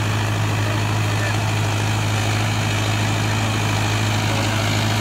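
A Swaraj Arjun 655 tractor engine runs while pulling a super seeder, giving a loud, steady low drone with a constant rumbling hum throughout.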